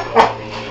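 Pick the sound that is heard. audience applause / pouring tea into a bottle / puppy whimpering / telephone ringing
puppy whimpering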